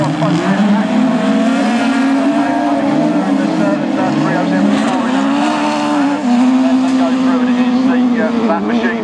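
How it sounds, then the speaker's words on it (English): Race cars in a BAS Class 7 heat at Scunthorpe scream through the Stargate turn, engines loud and continuous with shifting pitch, tyres squealing, while a commentator talks over the action. "As he comes around that Stargate turn, off he goes from Richard Blockley"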